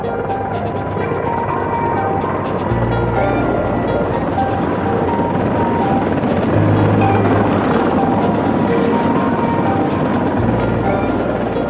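A Mi-26 heavy transport helicopter's rotor and turbines drone steadily and loudly throughout, with a deep low rumble and dense broadband noise, no voices.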